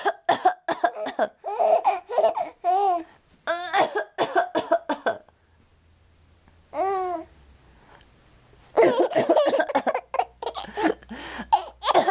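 A few sharp coughs from a woman break out amid a small child's babbling and giggles, close to the microphone, with quiet pauses between.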